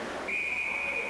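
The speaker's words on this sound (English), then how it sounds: "And a whistle." A referee's whistle at a basketball game, one sharp steady blast held for about a second over crowd murmur in a gym.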